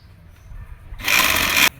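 A sewing machine stitches a Pakistani salwar in one short, loud burst of rapid whirring that starts abruptly after a quiet moment and cuts off sharply.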